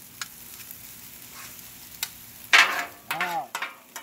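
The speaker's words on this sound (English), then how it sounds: "Mix it all together." Food in a frying pan sizzles faintly while being stirred and mixed, with a few scraping strokes and clatters from the utensil growing louder near the end.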